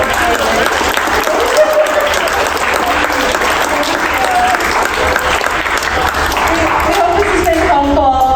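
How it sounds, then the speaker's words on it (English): School audience applause for a senior Q&A panel, a loud sustained round of many hands clapping close by, with murmuring voices and a few cheers blended in. "Can we give them all a round of applause?"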